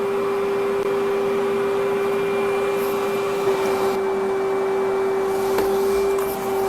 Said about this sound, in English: Trying to vacuum.